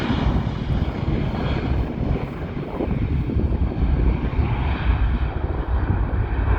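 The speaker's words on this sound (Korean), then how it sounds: "이륙하려고 하고 있습니다." A Jeju Air passenger jet roars steadily on takeoff, a broad continuous engine rumble with wind noise that stays loud and sustained throughout, heard from a distance.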